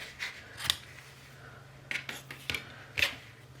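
Scissors snip through fabric bias binding in a few separate cuts, crisp and close, with quiet gaps between them and no talking.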